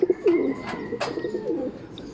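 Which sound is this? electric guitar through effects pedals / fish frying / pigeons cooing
pigeons cooing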